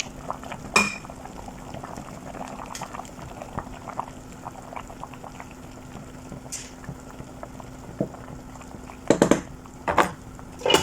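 Mung bean soup simmering in a pot with bundles of glass noodles (sotanghon) added, a low steady bubbling with occasional sharp clinks of a utensil or lid against the pot, no talking.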